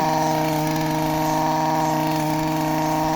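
Steady droning motor of a grass trimmer or mower cutting grass, run by a young girl in a field, with strong harmonic engine tone holding constant and close throughout, no talk.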